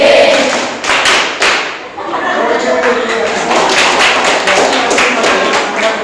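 A classroom of students claps a counted rhythmic pattern in unison, loud, close bursts in short groups as a teacher calls out the count between them.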